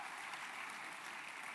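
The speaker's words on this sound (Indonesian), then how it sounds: "Tepuk tangannya yang paling meriah buat Tuhan kita." A church congregation applauds at an Indonesian sermon, an even wash of many hands clapping, faint and distant-sounding, with no voice over it.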